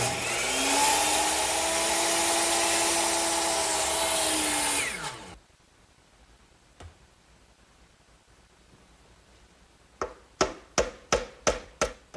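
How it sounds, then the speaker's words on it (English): A handsaw cutting wood molding in a miter box set at 90 degrees gives a loud, steady rasping drone for about five seconds, then quiet, then a quick run of sharp rhythmic strokes near the end. "I'll cut these over here on my miter box, which is already set at a 90-degree angle."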